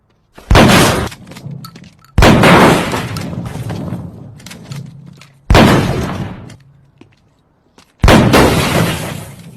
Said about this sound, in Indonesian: karena tembakan Moss ini, sepertinya Anton mengalami luka